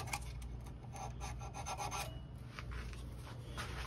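A wooden Christmas ornament is hand-sanded with a series of quiet, rhythmic rasping strokes, close and faint, with no talking.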